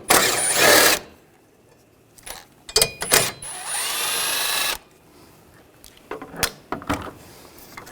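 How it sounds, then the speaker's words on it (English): A power tool with a 10mm socket spins out a bolt and nut while removing a battery bracket on a 2010-2017 Chevrolet Equinox, with loud whirring bursts separated by quieter clicks and handling noises. "Using a 10mm socket, take this bolt out and this nut."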